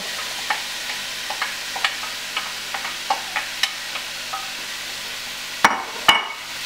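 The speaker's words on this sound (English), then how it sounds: "add in the mushroom and get those cooking with it" Mushrooms cooking with garlic in olive oil in a pan, a soft steady sizzle under a series of light clicks and taps, ending with two louder sharp knocks near the end.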